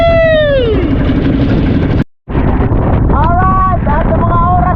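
Strong storm wind roars across a fishing boat at sea, a constant loud buffeting rush into the microphone, with voices heard through it.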